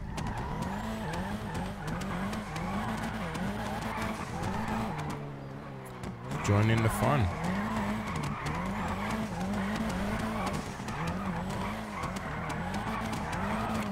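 Many drift cars at a touge session skid and squeal their tires continuously, engines revving loudly throughout, with a brief lull before a louder close pass; a voice briefly speaks.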